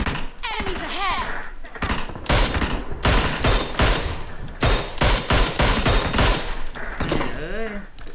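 PUBG Mobile gunfire, including an AK-type rifle and a Mini14: rapid loud shots in quick irregular bursts, mixed with mechanical clicks and thuds, while someone talks excitedly over the shooting.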